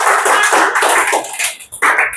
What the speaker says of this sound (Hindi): परमेश्वर के लिए तालियां बजाएंगे।